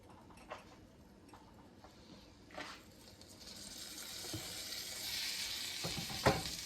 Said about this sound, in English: I don't know if you can hear it sizzling, but I mean, it's cooking away